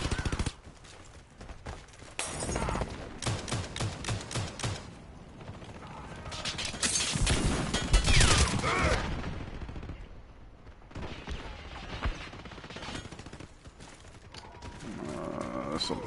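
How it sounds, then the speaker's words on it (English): Machine gun fire in the shooter game Warface, bursts of rapid shots mixed with mechanical clatter and other game sounds, dense and continuous through the clip with louder stretches in the middle. "Someone's up there with an MG."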